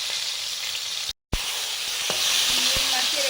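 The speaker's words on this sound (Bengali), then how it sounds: "এবারে করছি সিম ভাজা।" Flat beans fry in a pan with a steady, close sizzle, broken by scraping and clinking strokes as they are stirred, with one brief dropout partway through.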